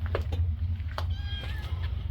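A cat meows on a beach a mile or two long, a few short, thin calls close by over steady wind or surf rumble.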